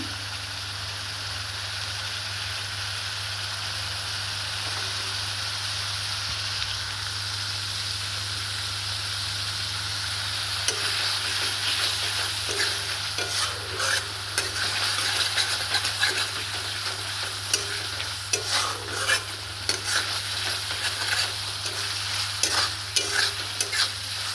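Masala for a mustard chicken curry being stir-fried in oil: a continuous sizzle and hiss with a low steady hum beneath, joined midway by frequent scraping and stirring clatter.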